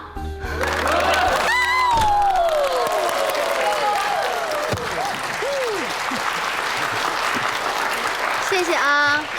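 Students applaud in a classroom at the end of a final lecture, a dense burst of clapping that holds steady for several seconds, with voices and a few whoops mixed in.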